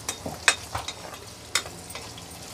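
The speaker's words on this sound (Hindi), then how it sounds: "मैं प्याज डाल रही हूँ, प्याज लाल हल्का सा गोल्डन कलर आ जाएगा" Onions fry in hot oil with a soft, steady sizzle, broken by a few sharp clinks and scrapes of a spoon stirring the pan, close by and fairly quiet.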